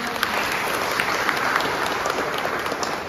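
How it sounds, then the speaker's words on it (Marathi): A crowd at a village assembly meeting claps steadily and loudly for a few seconds, dense applause without a break. "या ताईसाठी जोरात टाळ्या वाजवा"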